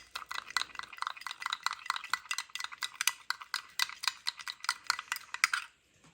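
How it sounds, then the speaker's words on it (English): A spoon stirs a thick peanut-butter snack mixture in a bowl, tapping and scraping against the sides in a steady, rapid rhythm of clicks that continues for several seconds and then stops. "you just stir it up until you get it the consistency you want"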